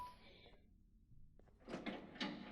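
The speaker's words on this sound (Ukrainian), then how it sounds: "то я маю відкрити тобі двері" A door opens in the video game Garten of Banban 0, faint and quiet: a soft thunk, then a louder scraping slide in two bursts toward the end, with a low hum beneath.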